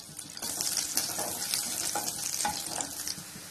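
Chopped garlic sizzles and crackles in hot oil for a turnip gravy, a steady close frying hiss with occasional stirring clinks and scrapes throughout.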